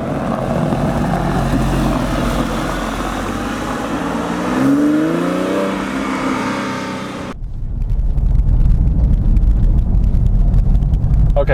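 A 2002 Porsche 911 Carrera 4S (996), damaged, driving slowly, with a steady engine and road roar that swells briefly midway, then shifts to a closer, rougher rumble.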